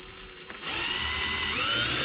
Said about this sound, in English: I'm gonna drill a hole in the cluster here and see what happens